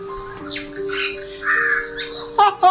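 Birds squawk and caw from a television bird channel, with several bursts spread through the short stretch and a louder pair of harsh calls near the end. Steady electronic tones sit underneath. No one speaks.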